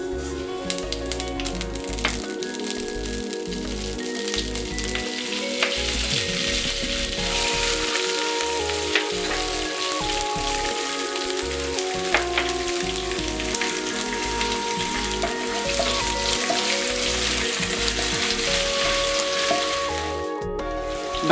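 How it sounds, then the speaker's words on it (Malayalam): Mustard seeds, curry leaves, garlic and ginger sizzle and crackle steadily in hot oil for a Kerala-style bitter gourd pickle, a dense, continuous frying hiss with scattered pops, close and fairly loud throughout, with no talking. "എടുത്തു വെച്ചിരിക്കുന്ന കടുക്, കറിവേപ്പില, വെളുത്തുള്ളി, ഇഞ്ചി ഇവ ഓരോന്നോരോന്നായി ഇടുക"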